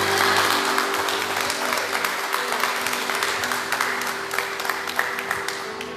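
A church congregation applauding during a worship service, steady dense clapping that fills the room for several seconds at a fairly even level with no talk over it.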